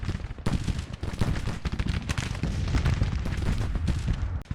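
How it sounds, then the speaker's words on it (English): Artillery fire in the Civil War strategy game Grand Tactician thunders in a dense, continuous barrage of loud booms and crackling gunfire, then cuts off abruptly at the end. "here comes Cullum under artillery fire with less than perfect cohesion"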